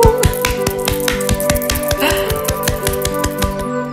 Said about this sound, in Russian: Хлопать обязательно.